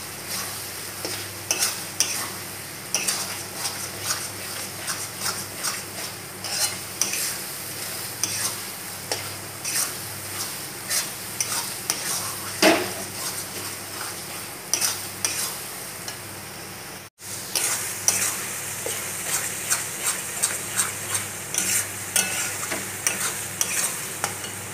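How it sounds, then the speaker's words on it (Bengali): Mutton curry masala with coriander and turmeric mix stirred and fried in a pot, a steady sizzle with repeated scraping strokes of the spoon throughout, close and continuous with one brief break. "এবারে বেশ কিছুক্ষণ কষিয়ে নেওয়া হলো।"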